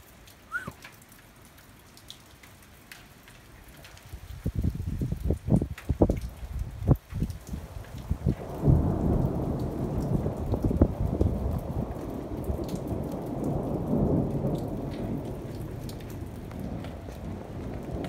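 Heavy thunderstorm rain in Chamalières near Clermont in March, starting faint then turning into a loud, steady downpour with several sharp close crackles and rumbles of nearby lightning strikes; no speech.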